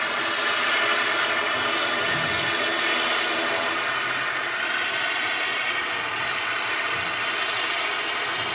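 Aircraft at Manchester Airport, a loud continuous roar of jet engines with a broad, steady rumble that holds throughout.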